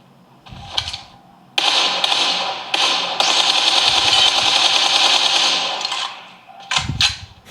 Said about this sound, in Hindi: यह है इसके फ़ैन की आवाज़। जब ये फ़ैन चलता है तो कुछ ऐसी आवाज़ आती है।